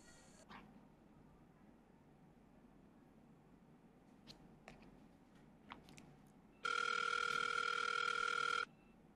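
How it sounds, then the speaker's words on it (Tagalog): A telephone rings unanswered: a single loud, steady electronic ring burst near the end, after a stretch of quiet room noise with a few small clicks and taps. "Okay, wait lang tatawagan ko si Migs."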